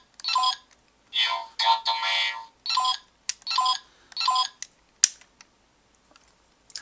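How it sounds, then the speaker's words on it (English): Magnet Switch Keitai DX toy phone plays its electronic number-dialing sound effect: a quick run of about seven short, bright synthetic beeps in an uneven rhythm, close and clear with nothing else audible. "you can press the button right here for a number dialing sound"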